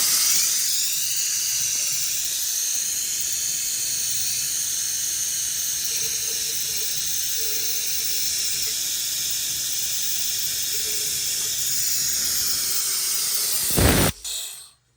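Old brake fluid being sucked out of the reservoir on a Dodge Charger SRT with Brembo brakes, a steady close hiss of suction running unbroken for about fourteen seconds before a brief loud clunk and abrupt stop.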